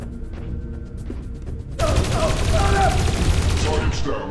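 A sudden sustained volley of rapid gunfire erupts in the Dreamfall Chapters video game, loud and dense after a quieter ambient stretch, continuing steadily to the end.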